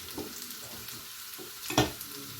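Capia peppers sautéed with onion in a hot pan for sweet and sour chicken. A steady soft sizzle runs throughout, with light stirring scrapes and one sharper utensil clack near the end.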